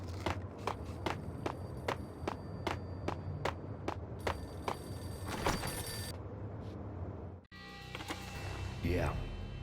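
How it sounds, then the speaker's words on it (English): A payphone rings in a Max Payne level: about a dozen evenly spaced bell bursts over a steady noisy ambient bed, ending in a loud clatter as it is picked up, with a voice beginning to talk. "The payphone started to ring."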